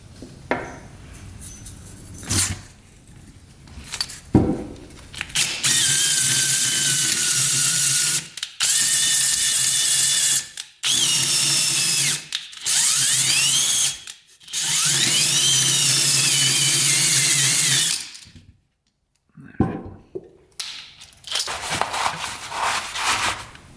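A 2-stroke dirt bike cylinder being honed with a drill-driven hone gives loud, sustained whirring bursts with a grinding, scraping edge, several runs of a few seconds each broken by brief pauses and clinks of handling.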